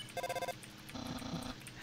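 A phone rings in the game Undertale, sounding as two short, soft electronic rings, one right after the other.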